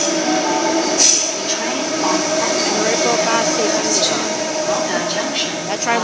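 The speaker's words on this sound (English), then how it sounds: "We have a rehearsal service arriving on platform number 12." A Sydney train rumbles and squeals into Redfern's underground platform during the afternoon peak, a loud, echoing rail roar with brief high metallic squeals, while speech is heard over it.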